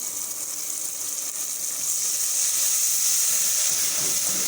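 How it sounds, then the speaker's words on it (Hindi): Ginger garlic paste sizzling in a pan with golden fried onions, a steady close hiss that swells slightly louder toward the end, with no voices. "अदरक लहसुन का पेस्ट फ्राई हो गया है"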